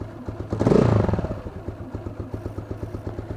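A cold dirt bike engine runs nearby, revving briefly then settling into a rough, rapidly pulsing idle.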